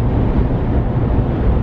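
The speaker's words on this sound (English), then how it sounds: "It's like 80 mile an hour wind." Strong gusting wind of around 80 miles an hour, strong enough to tear shingles off a roof, batters the microphone with a loud, dense, low rumble for a brief moment, with no voices.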